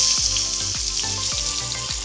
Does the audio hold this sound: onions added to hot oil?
yes